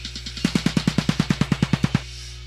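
A snare drum roll programmed in FL Studio 9 and pitched down: a few faint clicks, then a loud, evenly spaced run of about a dozen punchy, low hits that stops abruptly, heard alone.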